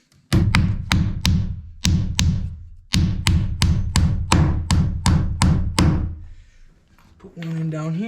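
Close, loud hammering as nails are driven into the door framing of a tiny house build: about a dozen sharp blows in quick runs with brief pauses, then a voice speaks at the end.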